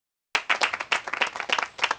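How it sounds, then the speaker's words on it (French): Applause from a small group at a pétanque cup award ceremony, a burst of close, uneven clapping that starts abruptly and stays steady for a couple of seconds. "Les gens applaudissent."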